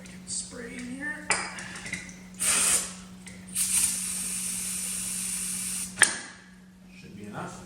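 Aerosol spray hissed into the engine of an abandoned 1985 Corvette in several bursts, including one long sustained hiss, with metallic clinks of the can and brief handling noises between sprays.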